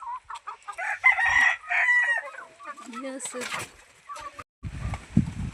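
Chickens in a backyard poultry shed on a farm, with close clucking and a loud rooster crow mixed with cackles, broken by short pauses and a burst of rustling near the end; a person speaks in between.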